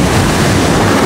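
Ocean surf at Port Barton beach in Palawan makes a loud, continuous broadband wash, buffeted by wind noise on the microphone.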